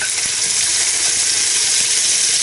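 Bacon sizzles loudly in very hot oil in a pan for an omelet, a dense, continuous hiss and crackle close up with no voices.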